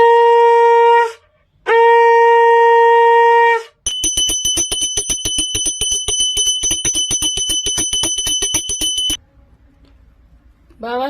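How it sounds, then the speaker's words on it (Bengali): A conch shell blown loudly during a Hindu puja gives two long, steady, loud blasts with a brief gap between them, followed by several seconds of fast, continuous bell ringing that stops abruptly. "এবারে জোরে শাক বাজাও।"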